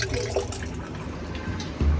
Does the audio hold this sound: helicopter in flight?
no